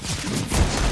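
Gunfire in a Counter-Strike match, a burst of rapid shots that thickens into a heavier volley toward the end, loud and close, with no talking.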